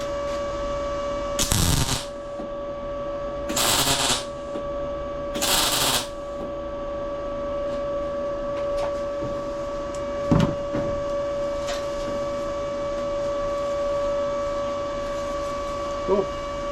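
An Arccaptain MIG200 MIG welder fired by its trigger for tack welds: three short, loud crackling bursts about two seconds apart over a steady machine hum, then quieter clicks and ticks.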